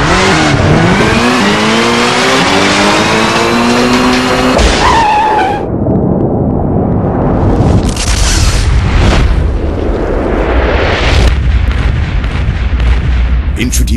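A Bajaj Pulsar DTSi motorcycle engine revs loudly with rising pitch, followed by harsh skidding and tire-scrubbing bursts, all loud and close with a dense, busy backdrop.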